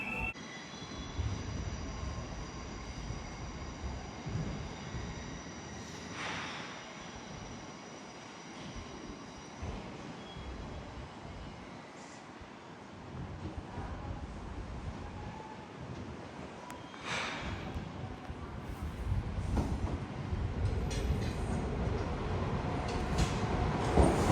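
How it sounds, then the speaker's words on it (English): A train pulls into a station in Northern Ireland on the line to Belfast Grand Central, its deep rolling rumble swelling steadily louder toward the end, with brief high wheel squeals and screeches over the noise and no talk. "I'll get the train coming in"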